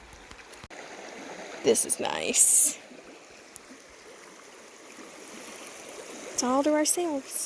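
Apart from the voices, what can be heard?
creek water flowing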